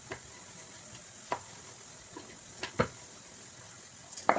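Paneer paratha frying in a pan, with a faint steady sizzle and a few soft scraping or turning clicks scattered through, quiet and close with no talking.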